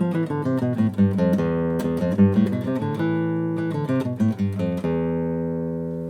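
A guitar plays an E Phrygian scale as a quick run of distinct single picked notes, moving up and back with a slight ringing decay. The notes are close, clear and alone, without speech.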